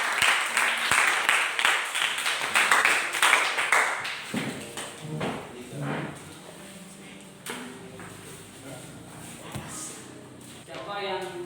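Students in a classroom clap in a burst of applause that fades after a few seconds. Scattered taps and knocks follow, and voices talk over the room.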